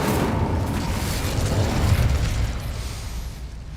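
An Incendio fire spell in Hogwarts Legacy goes off as a dense, roaring blast of rumbling flame, loud and sustained before easing off toward the end.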